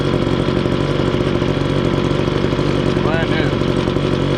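A brand-new Homelite 2-cycle gas leaf blower/vac engine idles steadily close by while warming up, a constant buzzing drone with a person speaking briefly over it.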